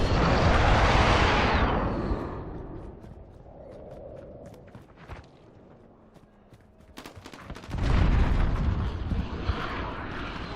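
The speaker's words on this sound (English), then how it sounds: "Enemy precision airstrike." Precision airstrike explosions in Call of Duty: Modern Warfare, a loud roaring blast burst opening, quieter rumbling and scattered sharp impacts in the middle, then a second heavy wave of explosions and debris.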